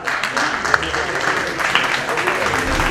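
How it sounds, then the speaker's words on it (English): Audience applause for a speaker at a fitness academy launch in India, a continuous wash of clapping from a room of people, moderately loud, with a faint voice underneath. "can we have Mustafa and a huge round of applause once again for Mustafa"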